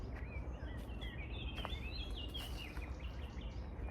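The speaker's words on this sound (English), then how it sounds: "Can you hear that? The birds." Birds chirp and call outdoors in a quiet setting, with a run of thin, bright tweets rising and falling over a soft, steady background hiss.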